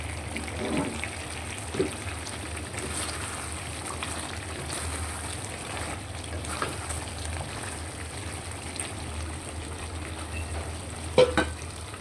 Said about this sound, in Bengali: ধীরে ধীরে কষাবো।